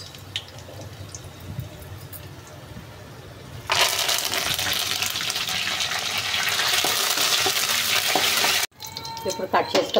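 Dried red chillies and curry leaves hit hot oil for a shark curry, bursting into a loud, steady sizzle that crackles on continuously, breaks off abruptly for a moment, then resumes; no voices over it.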